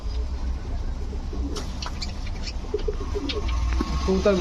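Fancy pigeons such as Budapest, Saharanpuri, racer and Giribaz birds coo softly in a low, rolling murmur, several birds together, with scattered rustles and light movement noises.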